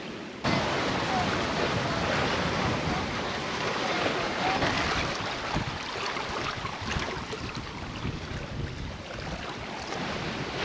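A sailboat on a beam reach at sea off the Marquesas in French Polynesia: constant rushing water and waves against the hull with heavy wind buffeting on the microphone, loud and steady throughout.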